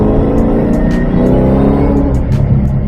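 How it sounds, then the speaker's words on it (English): Boosted engine of a Terminator Mustang Cobra revving hard up close, a loud, rough, continuous roar with rising harmonic tone throughout. "So I've always wanted a Mustang that had that sound, that iconic Terminator sound"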